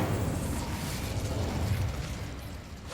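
An Incendio fire spell cast in the video game Hogwarts Legacy gives a rumbling, roaring burst of flame, a sustained low whoosh that stays loud and steady for a few seconds.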